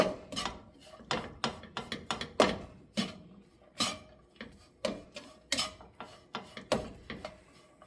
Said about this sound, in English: I'm going to go ahead and stir that all in